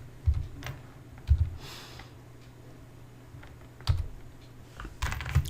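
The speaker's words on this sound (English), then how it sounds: "start to type Notepad" Keys clatter on a computer keyboard while someone types into the Windows search, in a few quick clusters of clicks separated by short pauses, close and clear.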